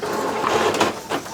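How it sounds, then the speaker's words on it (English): An HP OfficeJet Pro 8130e inkjet printer printing a page, giving a steady, fairly loud mechanical whir and rumble of paper feeding, with small shifts in pitch. "Alright, so that's printing something."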